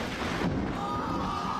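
Thunder rumbles during a thunderstorm, a low, broad, continuous roll at moderate loudness with a slight swell near the start, and no voices.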